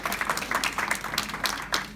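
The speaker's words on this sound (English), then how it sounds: "so applaud yourself for that, please." A graduation audience claps in scattered, uneven bursts, fairly quiet and sounding somewhat distant, the applause rising and falling over the short stretch without any talk.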